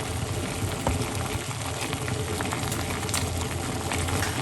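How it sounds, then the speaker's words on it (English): Lemon and parsley tea simmers in a pot with a continuous low bubbling and hiss that stays even and close for a few seconds, and no one speaks. "let that simmer for a couple of minutes"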